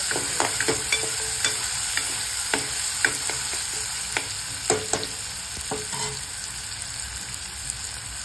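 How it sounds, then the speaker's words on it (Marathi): Tomatoes sauté in a hot tempering for chole bhaji, giving a constant sizzle broken by repeated scraping taps of a spatula stirring the pan. "टोमॅटो आपण सगळं 5 ते 6 मिनिटं चांगलं परतवून घेणार. मस्त फोडणी."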